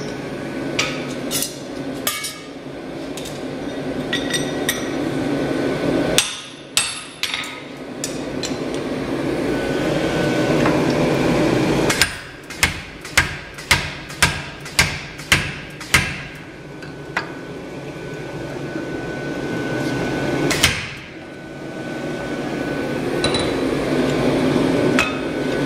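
An Electrofunk 65 power striking hammer drifts hot steel, landing sharp, loud metallic blows in clusters: single strikes, then a quick run of rapid hits, then a last heavy blow. A motor hums steadily underneath.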